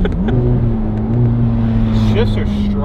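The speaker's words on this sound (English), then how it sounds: "That upshift was pretty solid too." A Ferrari F430 Spider engine revs loudly and steadily from inside the car, its tone climbing through an upshift with a brief pitch change near the end, while people talk over it.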